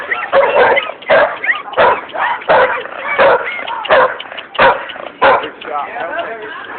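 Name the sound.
brown dog barking and whimpering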